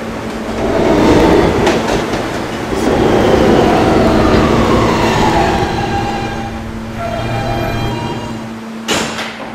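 An R160B subway train in a Roblox game runs along the PTA Subway Fifth Avenue lines, a steady loud rumble of wheels and motor with rising whine and rail clatter, ending with a sharp clunk near the end.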